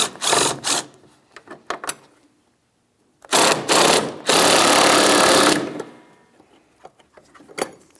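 Ratchet loosening the two 8 mm headed bolts on a metal bracket of a 2007-2014 Ford Edge 3.5L during a cooling fan replacement: close, fast bursts of clicking, with one long sustained stretch of rapid ratcheting.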